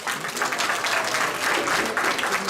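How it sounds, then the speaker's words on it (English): Steady applause from a crowd, dense clapping filling the whole stretch at an even, fairly loud level. "Another round of applause."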